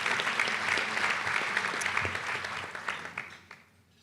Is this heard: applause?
yes